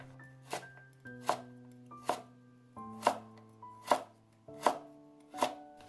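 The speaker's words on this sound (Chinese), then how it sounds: "先给它切成厚一点的片， 再切成条" A knife chops thick slices of a washed carrot into strips on a board, about eight crisp, evenly spaced strikes close up, with soft music playing underneath.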